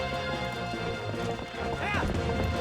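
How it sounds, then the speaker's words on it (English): A horse's hooves clip-clop in quick galloping rhythm in Zelda Twilight Princess, with a whinny rising near the end over game music. "we run into the horse"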